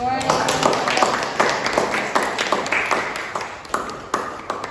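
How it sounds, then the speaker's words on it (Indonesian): Steady clapping from a class of people, a dense patter of hands continuing evenly for several seconds. "Beri tepuk tangan."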